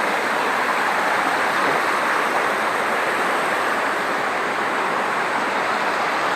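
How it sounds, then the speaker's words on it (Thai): A waterfall at Mae Kampong village in northern Thailand roars in the rainy season. The rushing water makes a loud, steady wash that fills the whole stretch without a break. "นี่คือน้ำตกนะครับหลักวัดนะ"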